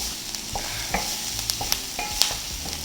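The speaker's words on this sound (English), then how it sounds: "We'll listen to that sizzle." Diced white onion, about one small onion's worth, sizzles in a pan with light scraping and stirring clicks over a steady frying hiss, close and moderately loud, with no voices.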